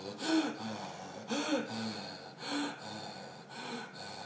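A voice imitates a person breathing really rapidly, producing four loud, breathy gasping huffs at an even pace, close and alone.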